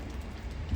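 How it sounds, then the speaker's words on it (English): Steady rain falls outside a house during a rain and thunder weekend, a soft continuous low wash without talk, heard from indoors looking out. "We're just here watching the rain."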